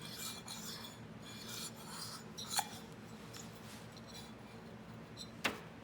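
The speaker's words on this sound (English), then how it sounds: "the first thing I'm gonna do is check to make sure that the piston fits the cylinder" A piston for a 1973 Arctic Cat Panther snowmobile is test-fitted into its cylinder, with quiet metal rubbing and sliding and two sharp clicks of contact, close up and with no talk.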